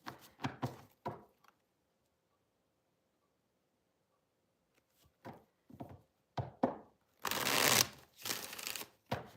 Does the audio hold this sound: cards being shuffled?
yes